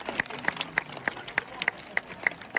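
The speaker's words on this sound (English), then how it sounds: "Give him a big clap." Scattered audience clapping at a sea lion show in an outdoor marine park arena, moderately quiet, with a few sharp individual claps standing out over a thin crowd wash.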